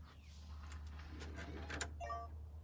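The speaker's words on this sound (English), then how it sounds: "You can hear the lock has locked." An August smart door lock engages with a quiet whirring motor and a few soft mechanical clicks, followed by a brief chime, heard close in a quiet room.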